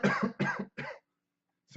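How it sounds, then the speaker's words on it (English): Three quick, close coughs from one person in rapid succession, a short silence, then the start of another. "I have a slight cough today."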